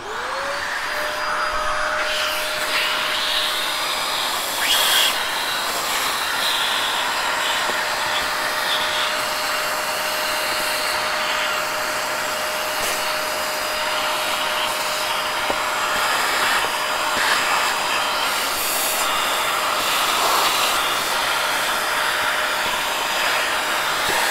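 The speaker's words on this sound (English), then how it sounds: "So I'm gonna vacuum that out." Vacuum cleaner sucking dust and crud out of a household fan motor, a loud continuous whine and roar with a steady tone that holds throughout, with small bumps and scrapes as the nozzle moves.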